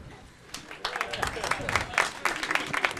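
Audience applause at a French stand-up comedy show, picking up after a short pause and swelling into steady, dense clapping from a fairly close crowd.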